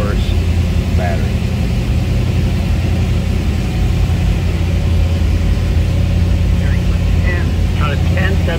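A 1962 Chevrolet Corvette convertible idles just after a cold start, giving a steady, close, low rumble that holds evenly throughout with faint higher clatter on top.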